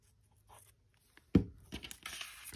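A single quick rip of paper being torn into a strip for an art journal, close and soft, followed by light rustling and handling in an otherwise quiet room.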